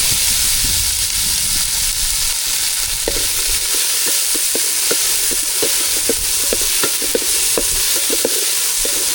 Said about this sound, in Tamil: கடலெண்ணெய் எண்ணெய் சூடாயிட்டு சுண்டைக்காய் போட்டு வதக்கிக்கலாம்